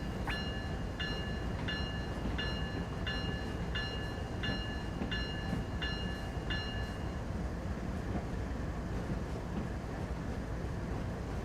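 An intermodal freight train rumbles past on Cajon Pass in Train Sim World 3, a steady loud rolling roar with a series of evenly spaced tonal squeals or horn-like tones early on.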